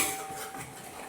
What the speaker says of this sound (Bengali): সব কিছু ভালো করে নাড়াচাড়া করে ভেজে নিই একটু